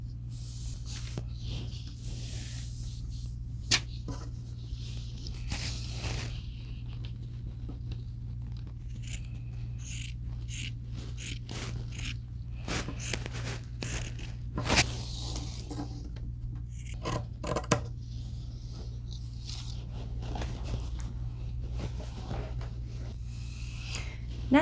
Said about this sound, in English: Next, we'll cut the neckline of the shirt.